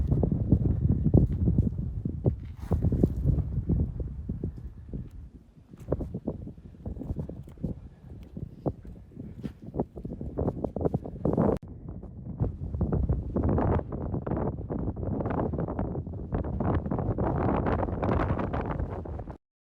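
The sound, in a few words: strong wind on mountain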